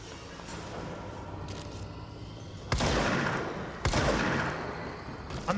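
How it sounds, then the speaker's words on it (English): A shotgun fires in the action game Control: two loud, heavy blasts several seconds apart, each with a broad burst and a lingering tail, set over a murmur of game ambience. "Oh, that's the shotgun."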